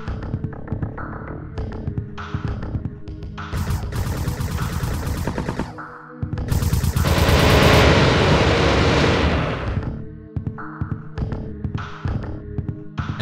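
Gunfire in the video game FREAKHUNTER, a Windows 95 screensaver, as freaks are shot: dense rapid bursts of electronic shots with a throbbing hum, swelling into a loud sustained blast in the middle before the shots resume.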